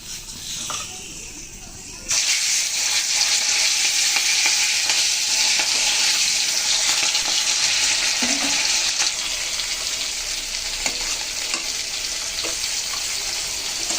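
Carp pieces drop into hot oil in a wok, and after a short quieter stretch a loud, dense sizzle suddenly erupts and continues steadily with small crackles, close by, with a voice briefly under it.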